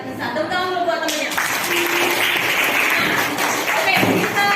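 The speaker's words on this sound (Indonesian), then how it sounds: "Tepuk tangan dulu buat temennya." Students in a classroom during a microteaching lesson clap for a classmate, a dense burst of applause lasting a few seconds, mixed with voices talking over and around it.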